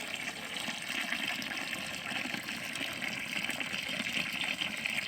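Water gushes in a steady spray onto banana seedlings, a constant rushing hiss from a hose or pipe poured onto the ground, with no voices.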